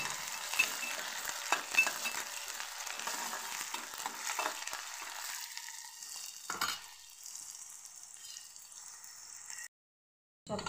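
Green chili and onion sizzling and frying in a pan after curry leaves are added, a steady close hiss with faint stirring that fades toward the end.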